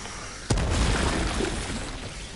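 A grenade goes off in the video game Helldivers 2, one loud sudden blast followed by a long rumbling tail that fades slowly, with no talking.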